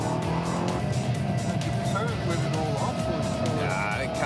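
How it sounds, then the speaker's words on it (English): A road car with driver aids switched off is pushed hard around a race track, its engine revving up and down through gear changes with bursts of tire squeal, loud and close. "I jump in the road car and turn all the aids off and go and have some fun."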